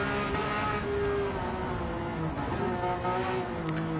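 A Porsche Carrera Cup race car engine at Fuji drones steadily throughout as the driver works the throttle, a continuous loud onboard roar with slight rises and dips in pitch.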